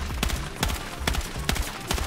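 Gunfire in the video game Battlefield 6: sharp, loud shots crack in a steady rhythm, about two per second, over constant background game noise.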